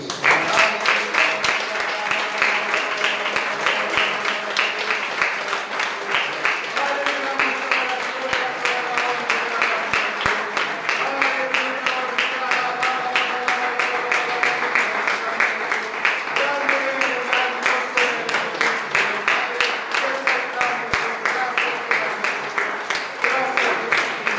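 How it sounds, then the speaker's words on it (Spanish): A church congregation claps for Jesus Christ at a healing service, steady rhythmic clapping running throughout over sustained tonal music or voices, loud and continuous. "Denle un aplauso a Cristo Jesús."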